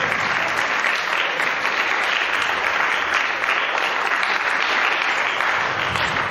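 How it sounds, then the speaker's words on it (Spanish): A large church congregation gives loud, sustained applause during a Sunday sermon, a dense, even roar of clapping that holds steady throughout. "¿Por qué no le das un fuerte aplauso al Señor?"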